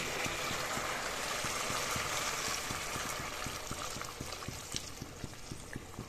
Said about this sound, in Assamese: ইয়াতে আৰু অলপ পানী এড কৰিম